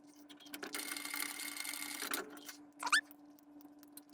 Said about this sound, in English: I'm going to come over to the sewing machine. Keep it nice and flat, lined up center, and stitch down that line.